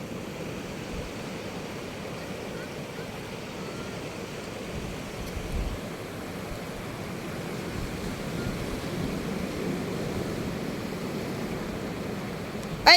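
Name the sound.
sea waves crashing against rocks at Dilasag, Aurora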